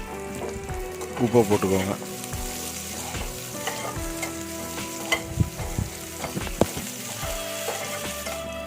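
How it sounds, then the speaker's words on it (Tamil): Small onions sautéing in a pan for a Tamil brinjal kadayal, with steady frying sizzle and intermittent scraping stirs; a voice speaks briefly over the cooking. "பாருங்கள், வெங்காயம் நல்லா வதங்கிருச்சு"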